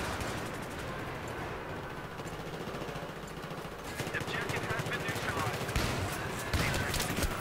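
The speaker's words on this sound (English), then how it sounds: "I shot him and he survived." Gunfire in the video game Battlefield 3 during a Conquest Domination match: bursts of rapid automatic fire and scattered shots, fairly quiet and growing denser toward the end.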